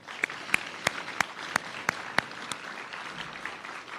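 An audience at an awards ceremony applauds, a faint wash of clapping with a few sharper individual claps standing out at a fairly even rhythm.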